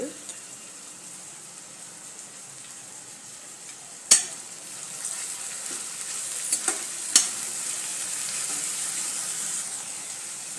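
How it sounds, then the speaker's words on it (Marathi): Steady hiss of cumin, garlic-ginger paste and curry leaves frying in a hot pan, with a few sharp pops and spatters partway through, close and even throughout. "जिरे आणि लसूण आणि अद्रकची पेस्ट घालते। कढीपत्ता टाकते।"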